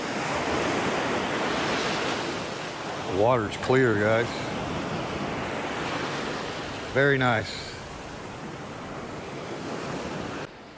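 Strong ocean surf breaks on Mae Pim Beach in Rayong, Thailand, giving a steady, close, wind-blown roar of waves throughout, with someone speaking briefly over it twice.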